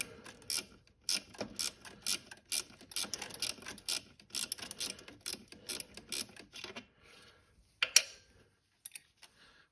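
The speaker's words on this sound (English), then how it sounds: "let's slacken this off a wee bit more with the old spanner" Ratchet spanner loosening a bolt on a Camaro TPI plenum: a run of quick close clicking bursts in a steady rhythm, then a sparse few clicks with a sharper clank.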